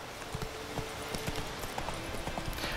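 A horse's hooves clip-clopping in The Witcher 3: Wild Hunt, a steady, moderately paced rhythm of light clops over a continuous background bed of game ambience, with no speech.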